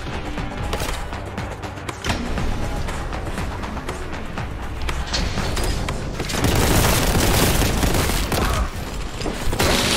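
Grenade explosions and heavy gunfire in the retro shooter game Warhammer 40K Boltgun form a dense, loud, continuous barrage of booms and rapid shots, swelling louder in the second half, with no speech.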